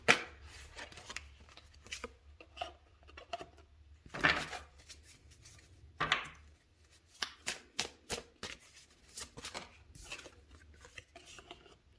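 Tarot cards being shuffled in repeated quick riffles and soft slides, close and fairly quiet, with short pauses between bursts.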